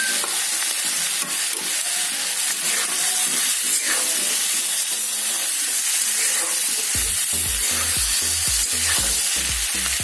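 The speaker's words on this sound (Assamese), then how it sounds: "এনেকৈ ঢাকোন মাৰি লৰাই মই 5 মিনিটমান মাংসখিনি ভাজি ল'ম।" Chicken and potatoes frying in a pan with turmeric, giving a steady loud sizzle and hiss throughout, with stirring clatter growing more frequent near the end.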